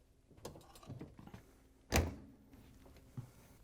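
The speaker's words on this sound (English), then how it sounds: "we can close the dishwasher door" A faint mechanical thunk of a Whirlpool dishwasher door shutting, preceded by soft rattles and clicks in a quiet room.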